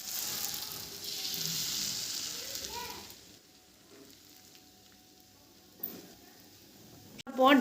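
Oil sizzling on a hot tawa griddle, a steady frying hiss loudest in the first three seconds before fading to a quiet simmer, with a brief clatter near the end and a voice talking over it.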